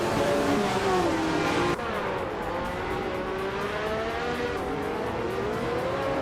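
A classic 1983 Lancia LC1 race car at Marina Bay in a racing game roars continuously at high revs, loud and close, its engine pitch climbing and shifting through gears with other cars droning alongside.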